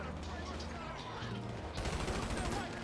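Gunfire in GTA V plays as a steady run of rapid shots, loud and continuous, growing harsher partway through, with a player voice partly audible over it.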